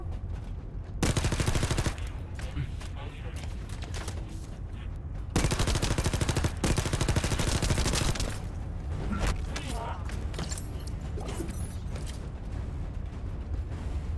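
Sustained SMG fire in a shooter game, long rattling bursts with short breaks between them, loud and close, mixed with mechanical clatter and a voice talking underneath at times.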